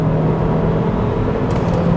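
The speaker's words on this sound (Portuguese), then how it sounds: "Vamos fazer a nossa largada estolada, vamos ver como é que ele se comporta." A 2021 Chevrolet Cruze Sport6 with a turbo engine launches from a standstill using launch control, giving a loud, steady engine drone that stays strong and unbroken throughout.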